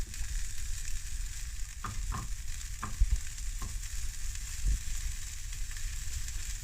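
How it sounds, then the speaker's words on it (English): Lean bacon frying in a pan for carbonara makes a dense, steady crackling sizzle close by, with a handful of sharper knocks and scrapes from a utensil. "So we're going in with the bacon. In with the bacon."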